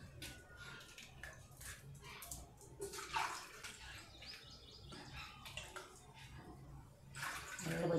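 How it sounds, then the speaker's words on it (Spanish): Water runs and splashes into a cooking pot with a steady rushing sound, bright splatters rising near the end, with faint birdsong and background noise around it. "Le voy a echar agua."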